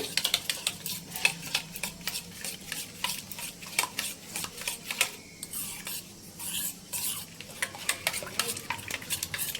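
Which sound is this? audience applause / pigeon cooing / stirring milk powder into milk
stirring milk powder into milk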